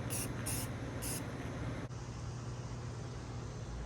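Flat black spray paint hisses onto minibike parts in three short bursts, then settles into one long, steady spray.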